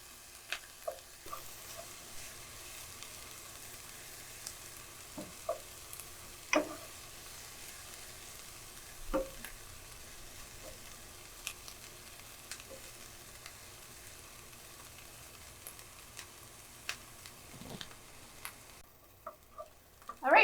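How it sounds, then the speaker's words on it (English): Onions for a vegetable pot pie softening in a pan with a faint, steady low sizzle, quiet and distant, broken by occasional light clicks and taps. "we're gonna let these cook for about 2 to 3 minutes until, again, they're nice and soft and they've turned translucent"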